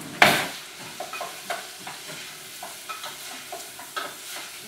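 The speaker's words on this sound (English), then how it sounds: "Give it a little stir" A spoon scrapes through red onions, garlic and orange peppers frying in olive oil, one sharp initial knock followed by soft, repeated stirring scrapes over a low sizzle.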